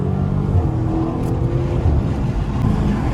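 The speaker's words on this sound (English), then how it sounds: "Y'all hear that V8 screaming." A loud, rumbling Dodge Scat Pack V8 engine drones steadily with throaty low-end growl, rising slightly in pitch as it revs, no talking.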